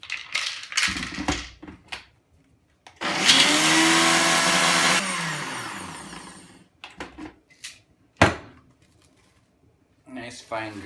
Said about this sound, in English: put these peppermints in the Ninja and chop them up